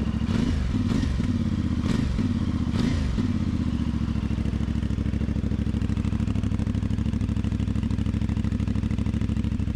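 A CFMOTO 450MT motorcycle engine running in Cyprus: a steady, close, throbbing idle with a few quick throttle blips at the start, then a constant rumble.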